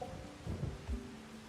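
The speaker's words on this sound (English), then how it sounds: "It is raining." Rain falls steadily in Farming Simulator 25, with a couple of low thunder rumbles rolling through the faint, continuous patter.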